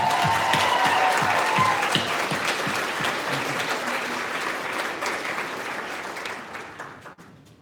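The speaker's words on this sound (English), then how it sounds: "let's just give them a huge applause and say thank you" A crowd gives a warm round of applause for the team at a Cricut opening session, dense clapping that gradually fades out toward the end.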